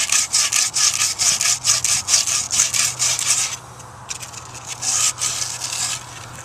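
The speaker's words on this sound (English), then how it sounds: "I use a little sandpaper" Sandpaper rubs back and forth on a corroded copper water pipe in quick rhythmic strokes, close and fairly loud, pausing briefly before the scraping strokes resume.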